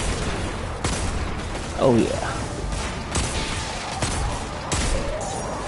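Hand cannon gunfire in the video game Destiny 2: a handful of sharp, evenly spaced shots over game noise, with a voice briefly speaking between them.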